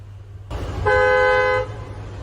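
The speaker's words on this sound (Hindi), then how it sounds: "डुअल टोन इलेक्ट्रिक हॉर्न्स हैं" Dual-tone electric horn of a Jeep Meridian Limited (O) 4x4 SUV gives one steady honk of about a second, loud and close, with no voices.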